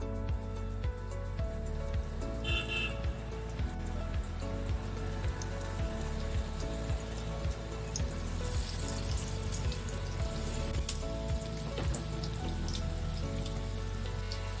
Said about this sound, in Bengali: তেল গরম হয়ে গেছে, এবার এগুলো একটা একটা করে ভেজে তুলে নেব।